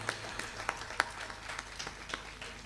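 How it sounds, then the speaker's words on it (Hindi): A seated audience at a ghazal evening event gives a round of applause, light scattered claps heard at moderate distance and fairly quiet. "जोरदार तालियों के साथ अभिनंदन होना चाहिए"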